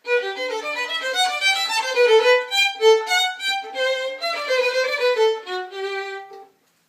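A melodic instrumental phrase of short, separated notes at a moderate pace, clear and close, ending abruptly after several seconds.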